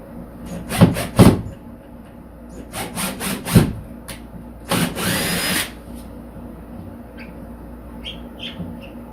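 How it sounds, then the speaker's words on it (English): A power drill pre-drills a hole in a wall for bathroom towel rack anchors, giving several short loud bursts of whirring and grinding followed by one longer drilling pass, then quiet. "I'm going to go ahead and pre-drill a hole in it."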